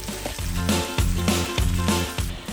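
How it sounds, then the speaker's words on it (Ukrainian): Bacon fries in a pan as eggs are added, a close, steady sizzle with repeated soft bursts and splutters. "В цей момент бекон підсмажився, я додаю туди яйця."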